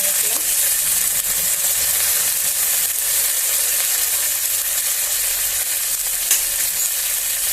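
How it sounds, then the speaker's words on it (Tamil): Mustard seeds, cumin and chana dal frying in hot oil, a loud, steady, close crackling sizzle that runs without pause throughout. "இப்போ கடுகு சீரகம் கடலைப்பருப்பு நல்லா பொரிஞ்சதும் நம்ம எடுத்து வச்சிருக்க பூண்டு தட்டி போட்டுக்கலாங்க"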